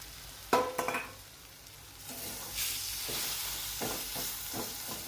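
Brinjal (eggplant) sizzles softly in a pan as a spoon stirs it, with a few sharp clatters near the start and then lighter scraping strokes. The sound is quiet and close, with no talking.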